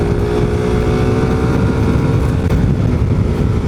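Suzuki Satria Pro motorcycle with a raised throttle body and ABS, engine droning steadily and loud throughout while being ridden, a broad continuous rumble with no pauses.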